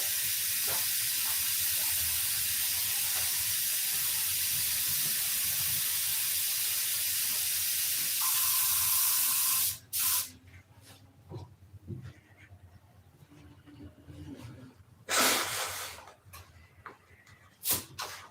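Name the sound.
spraying thinner into a box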